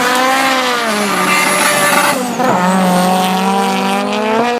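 Dragster race cars at a Thiva drag strip, a loud sustained high engine scream with pitch shifts and tire squeal, close and dominant, with a faint voice commentating beneath.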